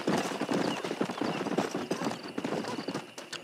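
Horse hooves clip-clopping in the Red Dead Redemption video game, a quick irregular run of sharp hoof strikes at close range, fairly quiet and without talk.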